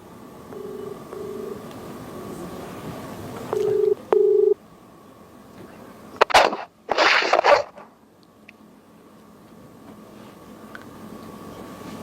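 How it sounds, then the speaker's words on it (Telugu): A phone call rings out with a few short, steady ringback tones in pairs, followed a moment later by a brief, loud rustling burst close by, then quiet line hiss. "ఒక్కసారి మాట్లాడండి స్వామీజీ, రింగ్ అవుతుంది."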